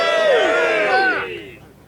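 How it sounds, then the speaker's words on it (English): A live audience at a Linux podcast show cheers and whoops together, a loud burst of many voices that swells briefly and then fades away within two seconds. "Let's have a cheer for Linux on the desktop."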